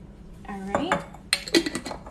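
A spoon stirring turkey chili with tomato sauce in a pot, heard as a few short scraping clinks of metal against cookware in two quick bursts, close and fairly clear.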